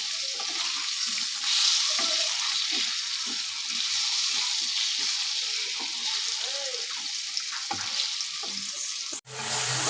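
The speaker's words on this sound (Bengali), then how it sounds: "হলুদ গুঁড়ো দিয়ে দেবো, ভালো করে আমি ভেজে নেব।" Spices with turmeric powder fry in a pan, giving a loud, continuous sizzle with soft stirring taps throughout. The sound cuts off sharply near the end.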